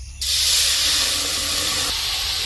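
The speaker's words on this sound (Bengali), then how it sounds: "কড়াইয়ে একটু জল দিয়ে দিব।" Water splashes into a hot wok holding ghee and flour and sets off a sudden loud, steady steam hiss that continues strongly to the end, close up and with no talking.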